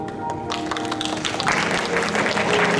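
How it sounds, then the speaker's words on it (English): An audience applauds a contest judge being introduced at a student competition final, steady moderate clapping filling the room for a few seconds, with faint tones and murmurs underneath. "let us give a round of applause for our third judge, Mr."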